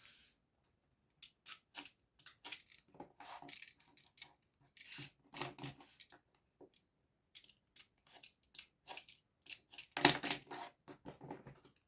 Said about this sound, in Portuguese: vou com a tesoura, tá?